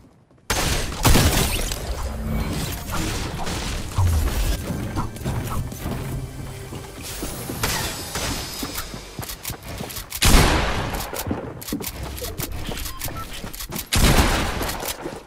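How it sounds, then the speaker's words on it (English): Gunfire in Fortnite, a mix of shotgun blasts and rapid shots with crashing and shattering impacts, loud bursts scattered over a busy stretch with louder peaks near the middle and end. "Bro, why am I using my shotgun when I can just aimbot him?"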